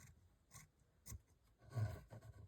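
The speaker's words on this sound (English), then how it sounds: "I'm gonna go ahead and try and trim this." Rasping, rubbing strokes of a blade trimming a coffee table book cover, in short irregular bursts at close range with a louder stretch near the end, no talking.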